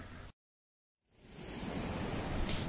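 Broadband surf of sea waves washing onto a beach strewn with shells and scallops, loud and steady, breaking off into a brief silence before the wash swells back in.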